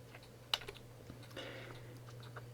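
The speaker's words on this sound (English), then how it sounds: "You can hear me tap the keyboard instead of scrolling with the mouse." A computer keyboard is tapped a few times during online chess commentary: sparse, faint clicks in a quiet room, with one sharper tap standing out over a low steady hum.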